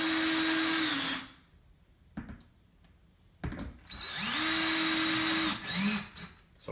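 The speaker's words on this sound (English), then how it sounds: "I'm going to go ahead and screw them down." A power drill drives screws into a wall to mount a wooden produce board, two loud close bursts of whirring with a brief rising and falling pitch, separated by a quiet gap with small handling clicks.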